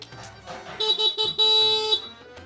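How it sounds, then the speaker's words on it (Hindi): A motorcycle horn honks in several short toots, then one long blast, loud and close, with faint voices in the background. "मोटरसाइकिल का हॉर्न बजा दिया"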